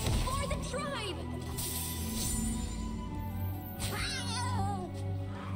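A cartoonish cat meows in the card game Legends of Runeterra, giving several drawn-out, wavering mews over game music while a person talks.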